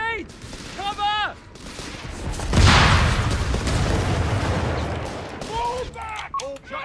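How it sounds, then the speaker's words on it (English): In a war video game, a heavy grenade blast booms close by and rumbles on, while scattered gunfire crackles around it and voices shout before and after. "Grenade! Cover!"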